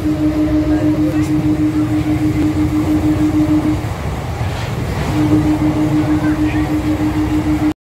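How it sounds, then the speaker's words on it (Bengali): A train rolls along with a steady low rumble and rattle, while a sustained tone drops out briefly in the middle before returning. "আমরা আদ্রা থেকে ট্রেনে গেছি, ট্রেনে এখন যাবো"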